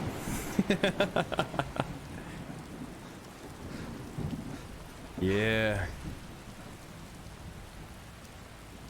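Rain patters and thunder rumbles in the video game Skyrim, a soft wet hiss running beneath a short burst of rhythmic footsteps and a brief tonal game sound, with someone speaking briefly.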